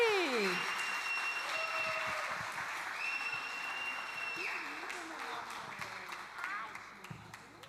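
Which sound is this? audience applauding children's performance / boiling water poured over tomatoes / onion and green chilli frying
audience applauding children's performance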